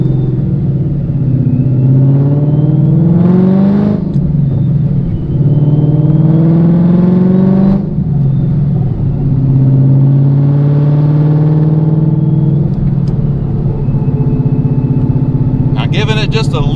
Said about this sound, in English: giving it just a little bit more throttle there, you can kind of feel it starting.